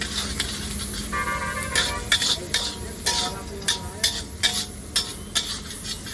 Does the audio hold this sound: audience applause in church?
no